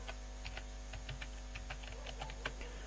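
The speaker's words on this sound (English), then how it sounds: "let me just type here details of the" Faint, quick clicks of a computer keyboard being typed on, scattered irregularly over a low steady hum.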